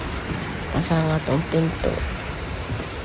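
Steady rain patters throughout, with a person speaking briefly in the middle over the downpour.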